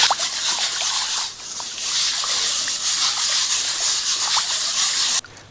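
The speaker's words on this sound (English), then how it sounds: "What you're doing is rinsing and turning" A gem sieve full of gravel is rinsed and turned in water while prospecting for sapphires, with steady close sloshing and trickling that runs almost without a break and ends abruptly.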